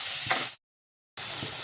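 Spicy broccoli and tomato bhaji sizzles loudly in a pan, a steady bright frying hiss that cuts out briefly to silence and then resumes.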